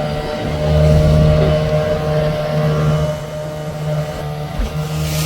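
A fishing boat fitted with two outboard-style engines runs at sea, giving a loud, close, steady motor drone that swells slightly at first and then holds an even hum.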